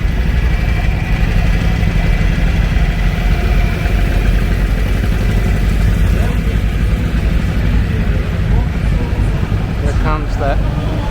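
John Deere 410 antique tractor engine running steadily at an antique tractor show parade in Tennessee, a continuous mid-level chug with someone narrating over it and crowd noise around.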